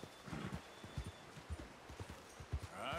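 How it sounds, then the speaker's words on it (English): A horse walking in Red Dead Redemption 2, with a steady series of soft hoof clip-clops on the ground and light rustling, fairly quiet with no talk. "You're a good horse."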